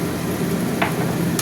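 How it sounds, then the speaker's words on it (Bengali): Spiced masala being fried and stirred in a pan for a Bengali green peas chicken curry, with Kashmiri chilli added: a steady close sizzle with faint scraping strokes of the stirring spoon, no talking. "এখন এটা মশলাটা কষাবো।"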